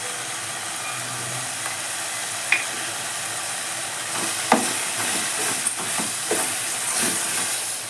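Two spoons of chili powder added to a chamakura dal, with a steady steam-like sizzle and scattered clinks and scrapes of stirring in the pan growing busier toward the end, no talking.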